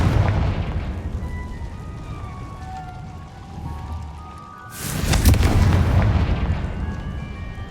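A Confringo blasting spell erupts in Hogwarts Legacy as a loud, near burst with a crackling, rumbling tail, heard after a stretch of steady game ambience and a brief lull.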